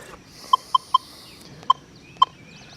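An XP Deus 2 metal detector with an HF2 coil sits over a quarter and gives short, clear electronic tones: three quick beeps, then two more spaced apart, all over a faint background hiss.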